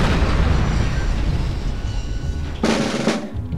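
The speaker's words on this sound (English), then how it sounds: "Forgot to look at the pretty explosion." A loud game explosion in the Conflict: Desert Storm video game, a dense roaring blast with rumbling debris that tails off, then a short bright crackling burst near the end, with no talk over it.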